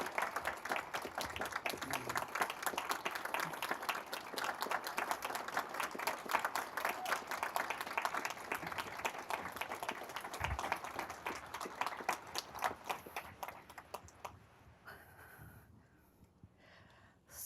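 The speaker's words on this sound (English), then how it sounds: "I want a rounding applause for them" Audience applause for award recipients at a President's Awards ceremony, a sustained round of many hands clapping at moderate distance that thins out and fades toward the end.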